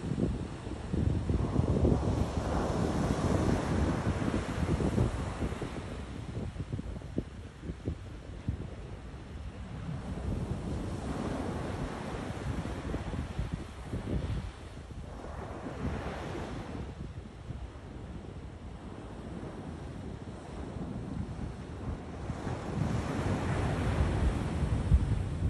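Ocean surf rolls in continuously, steady broad wash of breaking waves with wind buffeting the microphone, loud and close for the whole stretch, swelling slightly at intervals with no voices.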